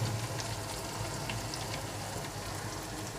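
Onion frying in oil in a pan, giving a steady close sizzle that holds at an even level without a break and with no voices.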